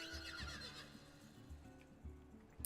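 A horse in the game Final Fantasy XIV whinnies close by, its neigh running over a low rhythmic clip-clop of hooves with soft game ambience, no voices.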